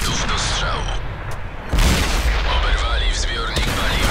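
A heavy tank cannon blast booms out in World of Tanks, followed by rumbling game battle noise with mechanical clatter and voices talking over it.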